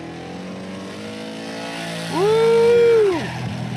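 A Nissan GTR accelerates down a drag strip at a spectator drag race, the engine note rising and swelling loud before easing off.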